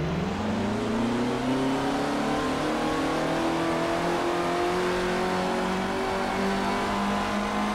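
A race car engine from the Motorsport Manager racing game drones steadily with rising pitch as it accelerates, loud and continuous with no speech.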